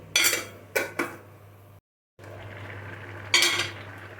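While bottle gourd cooks, a pot gets a few sharp metallic clanks from a lid and utensils. A soft, steady simmer carries on between the knocks, and one more clank comes near the end.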